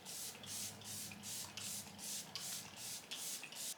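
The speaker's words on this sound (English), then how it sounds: "Going in with the Sephora Collection setting spray." Sephora Collection setting spray misted in a steady series of short bursts, about eight quick hissing pumps in a row, close and fairly soft.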